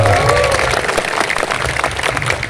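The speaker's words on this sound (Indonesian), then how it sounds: "Maka tepuk tangan untuk Pak Bupati" Clapping from a crowd for the Bupati during an Indonesian religious sermon gathering, a loud, fairly steady patter of hands with some voices mixed in at the start.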